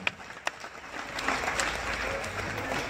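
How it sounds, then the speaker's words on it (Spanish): Applause from an audience at a charro awards ceremony at an annual fair in Puebla swells after a couple of sharp claps, a dense steady patter of many hands clapping at moderate distance. "Que se escuche el aplauso del público"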